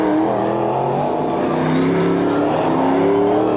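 Touring race cars at the 1993 Sandown 500 roar up the back straight, engines loud and steady throughout, with overlapping revving tones as the pack passes close by.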